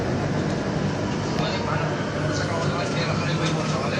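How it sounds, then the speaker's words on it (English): Continuous rumble of a metro train in motion, a dense even roar inside the carriage with faint rattles, people talking over it. "Estamos en el metro, hermano"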